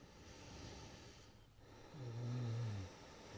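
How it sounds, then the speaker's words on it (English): Deep, slow breathing during a yoga backbend, a low rasping exhale swelling for about a second near the end, close and fairly quiet with no talk. "Deep breaths"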